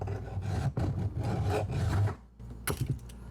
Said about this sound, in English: Now what we're going to do is take our file here, and we're just going to trim all this top portion off.